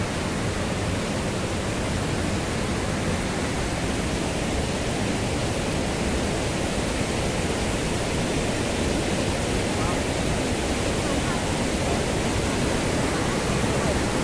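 Waterfall at the Dhutpapeshwar temple in Rajapur, Konkan, roaring as a steady, dense rush of falling water close by, unbroken and loud throughout.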